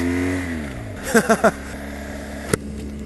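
A BMW R 1200 GS LC Adventure with a liquid-cooled boxer engine, ridden at slow speed: the engine note winds down, then three quick throttle blips come close together, followed by a single sharp click.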